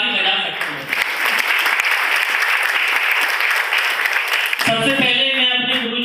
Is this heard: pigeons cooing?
no